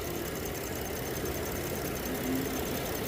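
A 2014 Dodge Durango with the 3.6-liter V6, 4x4, idles steadily up close, a constant low mechanical rumble and hum with no voices over it.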